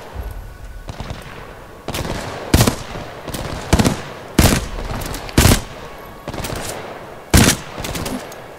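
Gunfire in the shooter video game Titanfall 2 arrives as repeated loud, sharp bursts and single cracks spaced about a second apart, with a rumbling, busy game backdrop between the shots.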